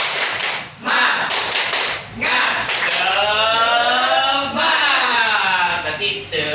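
A group of women at a financial management and business planning training session doing the rhythmic spirit clap: sharp clapping bursts in a set pattern, alternating with voices chanting together in between.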